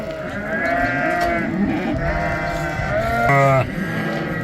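Sheep bleat repeatedly over a steady murmur of a flock, with one louder, wavering bleat close by near the end.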